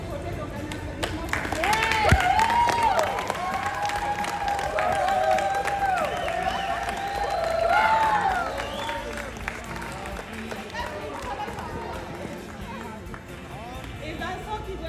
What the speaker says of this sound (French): il a vraiment supporté beaucoup le projet, donc un applaudissement